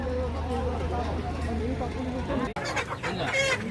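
Chickens cluck and murmur throughout a busy livestock market in Gangadhara, Telangana, a steady mix of fowl calls with crowd voices and talk around them.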